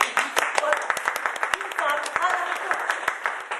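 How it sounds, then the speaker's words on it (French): Scattered clapping from a theatre audience, a steady patter of many hands with a few sharper claps standing out, with voices mixed in underneath. "applaudissez madame"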